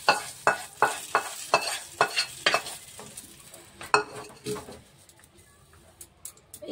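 Dried kasuri methi frying in hot oil in a pan for a dhaba-style dim tadka, with a quick run of rhythmic stirring scrapes over a soft sizzle that later thins out.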